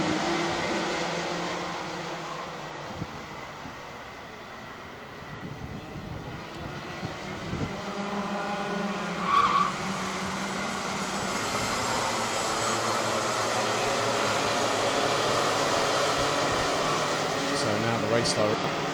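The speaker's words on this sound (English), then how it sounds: "So they go round for another formation lap." Junior racing karts circle the Wackersdorf track in Germany on a 2020 formation lap, their engines making a buzzing, droning whine that rises and fades as they pass, with voices faintly present underneath.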